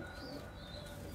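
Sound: pigeons in a coop

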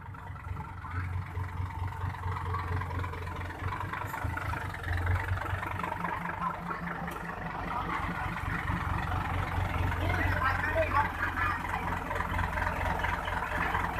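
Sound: tractor engine pushing a dump truck in mud

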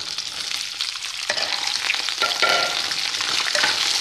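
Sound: okra frying in oil

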